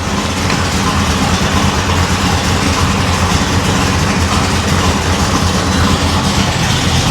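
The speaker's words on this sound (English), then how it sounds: "I blew a muffler right off. Now it's even louder." A supercharged 1955 Chevrolet Nomad hot rod engine runs with a muffler blown off, a loud, raw, rumbling exhaust drone that holds steady and close throughout, no talk.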